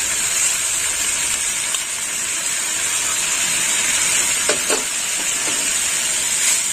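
Poppy seed paste drops into a pan of sizzling snakehead fish curry, a steady loud frying hiss running throughout with a few brief bubbling spatters near the end.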